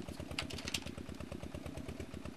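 A tractor engine chugs in Professional Farmer 2014, a steady low rhythmic idle-like putter with regular pulses throughout, moderately quiet and alone.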